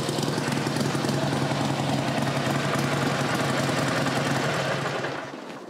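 A Harley-Davidson 883 Iron Sportster idles up close with a loud, steady, lumpy rumble that goes on without a break, then drops off as the engine is shut down at the end.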